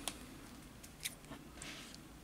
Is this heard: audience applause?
no